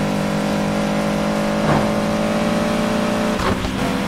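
Race car engine held at full throttle in Need for Speed Heat, a loud, steady high-revving drone with two brief gear-shift dips, continuous and close with no talking.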